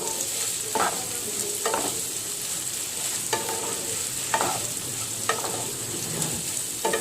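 Vegetables with bay leaf fry in oil as they are cooked down for eating with roti, giving a steady close sizzle with slow, regular stirring scrapes every second or so and no voices.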